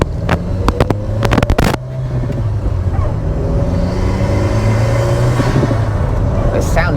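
A turbocharged 20-valve engine fitted in a VW Mk1 Caddy runs loud and close, with a few sharp blips at the start settling into a steady, rumbling idle that holds throughout.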